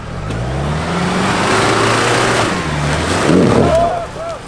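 Land Rover Defender engine revving off-road during an overland extreme event. It sounds close and loud with a rising, sustained drone, and voices can be heard over it.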